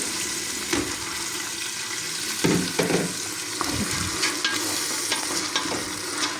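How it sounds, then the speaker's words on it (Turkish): Boiled beans tipped from a pot into a pan of sauce, giving a soft wet slosh and sizzle with intermittent stirring and scraping clatter, close and steady throughout, no voices. "Fasulyemi şöyle içine dökeyim."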